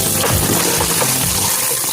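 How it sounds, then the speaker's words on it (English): Chicken breasts being washed with lime juice under running water, a loud continuous splashing rush with no talk. "I'm washing this with some lime. Just wash this with some lime juice."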